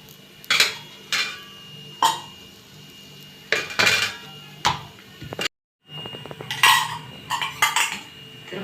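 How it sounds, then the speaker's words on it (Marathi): A coriander paratha is flipped on a pan, giving a handful of sharp metallic clinks and scrapes spaced a second or so apart, close and fairly loud, with a brief silent gap near the end and no talking. "पराठा आता आपण दुसऱ्या साईडनं पलटून घेऊया।"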